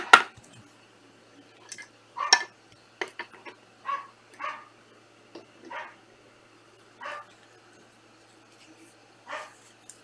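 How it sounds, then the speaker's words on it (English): Dog indoors barking in a string of sharp, separate barks at irregular intervals, loud at first and then a bit softer, with faint clinks between them. "doggy's going crazy"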